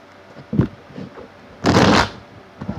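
A quick riffle of cards, a loud dense burst of flapping lasting about half a second, with a few soft handling taps before and after.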